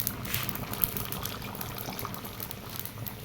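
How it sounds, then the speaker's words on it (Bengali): Water pours steadily into a simmering fish curry in a pot, a soft continuous splashing trickle with light bubbling, close and fairly quiet, no talk. "আর একটু জল দিয়ে দিই।"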